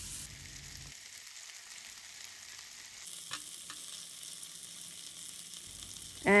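Marinated whole tilapia pan-grills over a medium flame, producing a steady close-up sizzle and crackle with no voices, which ends in a brief louder clatter.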